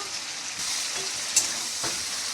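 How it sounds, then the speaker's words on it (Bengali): Chicken pieces frying in oil and their own released juices, a steady soft sizzle with a few stirring scrapes and one brief clink, close by and with no voices. "চিকেন থেকে যে একটু জলটা বেরোয় সেটা দিয়েই ভাজছি"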